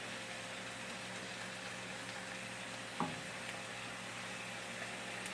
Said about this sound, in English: right now I'm just cooking my onions